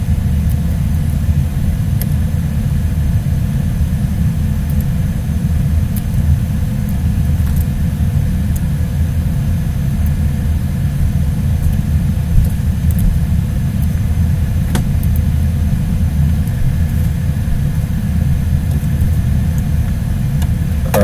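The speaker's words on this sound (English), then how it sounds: "Car." Car engine in Garry's Mod giving a steady, loud low rumble that holds evenly throughout with no talk.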